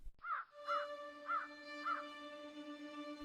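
Several crows give four evenly spaced harsh caws, clear and fairly close, over a steady tonal hum, with no talking.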